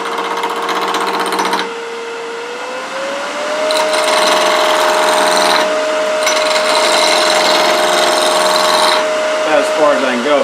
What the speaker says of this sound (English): The lathe's a little noisy because I've got it in bowl mode